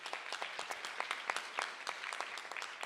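Audience applause at a 100th birthday celebration afternoon program, a dense steady patter of many hands clapping, heard at a distance and fairly faint, without voices.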